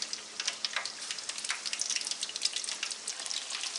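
Pieces of fish, Lahori-style spicy fish fry, sizzling in hot oil, a dense steady crackle and spatter of small pops running throughout at close range, with no voices.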